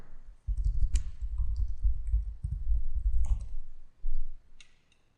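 A computer mouse clicks several times, sharp and close, in separate single clicks over a low background hum, with no talk heard.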